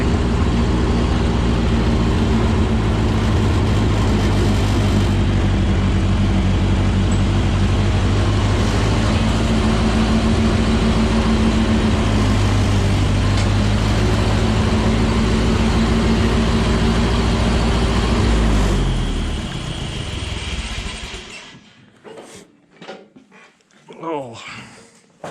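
A Ford 8N tractor engine runs while plowing snow, a steady, loud low drone that holds for nearly twenty seconds and then cuts out, leaving faint scattered noises.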